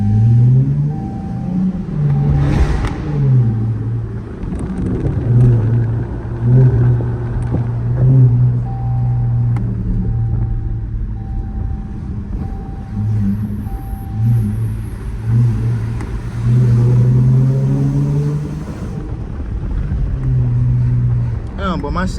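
A Dodge Scat Pack 392 drives downtown, its engine and exhaust giving a steady low rumble that swells and eases with throttle and sits close and loud under someone talking.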